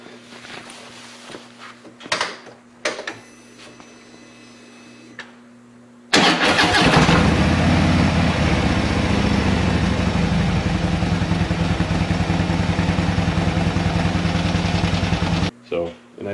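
A Harley-Davidson Ultra Limited FLHTK Touring motorcycle engine starts abruptly after a few quiet clunks and handling noises, then idles loudly and steadily for about nine seconds before cutting off.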